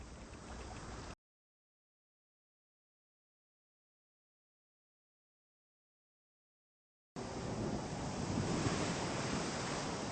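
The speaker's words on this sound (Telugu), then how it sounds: "రే గోవిందో, అయ్యా సముద్రం ఆకాశం కలుస్తాయంటావరా?" Sea surf washing against a shore at night in a fishing village, a steady broad rush of breaking waves that cuts out to complete silence for several seconds, then returns slightly louder.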